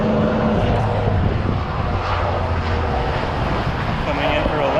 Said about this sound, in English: And there's a helicopter.